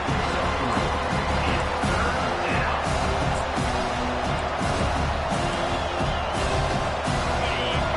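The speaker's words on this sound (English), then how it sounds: "this crowd will blow out a vocal cord to help this defense" Stadium crowd noise from a Navy football video game, a steady dense roar of voices with faint whoops rising through it.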